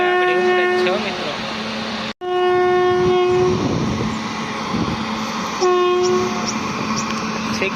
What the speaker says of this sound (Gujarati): જબલપુરના એન્જિને હોરન મારી લીધું છે ને ઉપડવાની તૈયારી છે